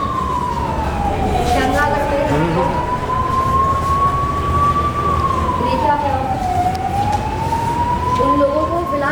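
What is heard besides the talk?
emergency vehicle sirens during a mock disaster drill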